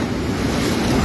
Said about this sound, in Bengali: দেখতে পাচ্ছেন জলের যে ঢেউ, সেই ঢেউগুলি কিন্তু একেবারে ব্যারেজের গেটে ধাক্কা, ব্যারেজের বাঁধে ধাক্কা মারছে